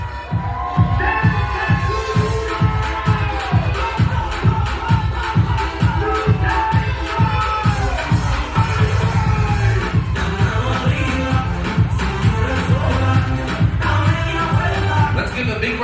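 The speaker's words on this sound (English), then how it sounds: "Big round of applause." Loud crowd cheering, whooping and applause at a wedding reception as Crystal and Nelson are introduced, carried over a steady pounding music beat for the whole stretch.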